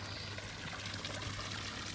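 Water sloshes and trickles steadily close by in an unheated outdoor resort swimming pool at Dhulikhel in the Himalayas of Nepal, with a constant low hum underneath.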